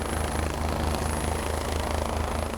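A rescue helicopter arrives over an accident site at a vast limestone cliff, its rotor thudding in a steady, continuous drone at moderate distance with no voices.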